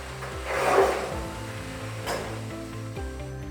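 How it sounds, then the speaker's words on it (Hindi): Ceramic wall tile being cut with a hand tool, a dry scraping rasp that swells briefly near the start, then quieter scoring and snapping sounds, close and without voices. "टाइल्स को काटने के लिए उचित औजारों का इस्तेमाल कर टाइल्स को सावधानी पूर्वक इस तरह से काटें।"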